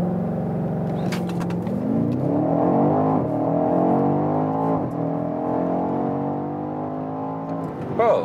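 A BMW X5 M or X6 M Competition accelerates hard, its engine note rising steadily in pitch across gear changes, heard loud from inside the cabin.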